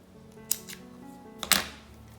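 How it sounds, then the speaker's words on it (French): Scissors snip through crochet yarn with two quick, crisp cuts about a second apart, close and clear in a quiet room with no talking. "je vais couper le fil"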